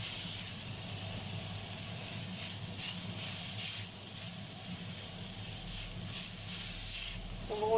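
Chillies and other ingredients for a dairy-free chicken curry casserole sauté in a pan, giving a steady, even hiss that runs through the whole stretch with no talk over it.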